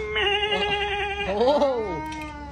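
A person imitates a goat's bleat: a wavering, nasal call held for over a second, then rising and falling in a second quavering call, close and clear.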